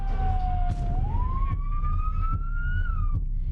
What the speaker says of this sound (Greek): δεκάδες ασθενοφόρα άρχισαν να καταφθάνουν στο Μαρί και να μεταφέρουν τους περίπου 60 τραυματίες